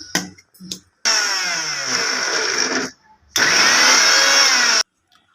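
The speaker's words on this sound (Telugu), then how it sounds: "ఇప్పుడు ఇది మొత్తం మిక్సీ పట్టి మిక్సీ పడదాం" A kitchen mixer grinder grinding a spinach-onion spice paste whirs loudly in two long bursts separated by a short pause, preceded by a few brief knocks and clatters.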